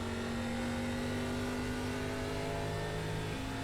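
An ARCA Menards Series race car engine in the iRacing sim drones steadily at high revs for the whole stretch, a constant loud tone with no letup.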